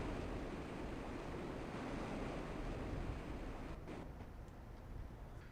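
Steady roaring rush of falling water from a waterfall in the fantasy RPG EverQuest, broadband and continuous throughout, slightly easing near the end with no talk.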